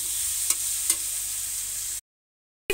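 Chopped vegetables fry over a high gas flame for macaroni pasta, a steady bright sizzle with two quick stirring scrapes, cut off abruptly near the end before briefly resuming.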